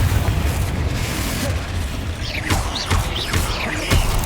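A Confringo fire spell explodes in Hogwarts Legacy: a sustained booming blast with crackling bursts, followed by several sharp impacts and swooping effects amid ongoing combat noise.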